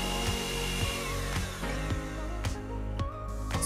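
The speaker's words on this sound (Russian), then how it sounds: "Начинаем взбивать до белой пены в течение 5 минут." An electric mixer whipping three eggs with sugar into a white foam, a continuous close motor whine with a faint rhythmic knock as the beaters turn.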